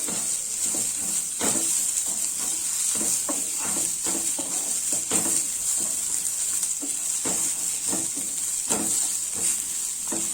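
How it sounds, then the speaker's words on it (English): Onions frying in a pan for veg donne biryani, a steady close sizzle with a constant high hiss and occasional stirring scrapes, no voices. "Once those onions starts to fry"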